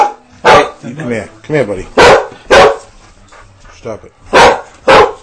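A dog barks in loud, sharp bursts, about six, spread unevenly across the scene as people talk over it nearby.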